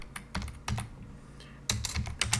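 Bursts of keyboard typing on a computer during a Linux shell session, quick clustered keystrokes in several short runs, close and moderately loud with no talking.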